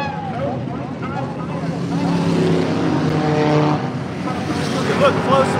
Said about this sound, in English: I'll just let you guys watch the race.